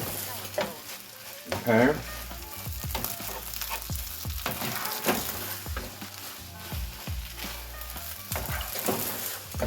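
Chicken being cooked for a honey mustard stuffed roast sizzles and fries steadily in a pan, with repeated scraping stirs and an occasional clink of a utensil; a voice briefly speaks over it.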